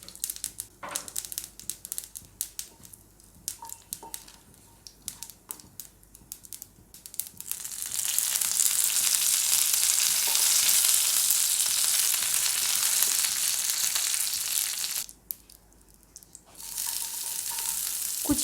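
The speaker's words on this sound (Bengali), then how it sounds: "তেলে আমি ফোড়ন দেব, একটু সর্ষে ফোড়ন দিলাম, দিলাম একটা শুকনো লঙ্কা আর দিয়ে দেব কয়েকটা কারি পাতা" Mustard seeds, a dried red chili and curry leaves hit hot oil, starting with scattered crackling pops, then erupting into a loud steady sizzle that briefly drops off and resumes close up.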